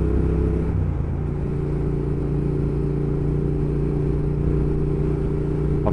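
A Triumph Thruxton R motorcycle engine runs close and loud, holding a steady, throbbing idle with a brief lift in revs near the start.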